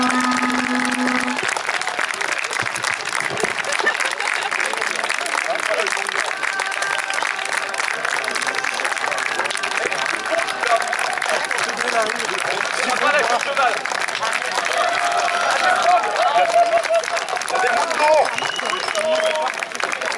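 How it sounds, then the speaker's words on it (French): Sustained audience applause at an outdoor parade of troops and costumed extras, a dense steady wash of many clapping hands with crowd murmur and voices mixed in throughout. "véritablement un tonnerre d'applaudissements que je voudrais entendre"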